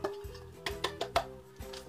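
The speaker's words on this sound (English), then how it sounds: "Milk pan. Apparently these are called milk pans." A new metal milk pan is handled, giving several light clinks and knocks scattered unevenly over a couple of seconds, close and fairly quiet.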